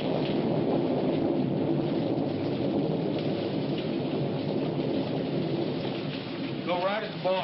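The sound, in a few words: rain falling, with thunder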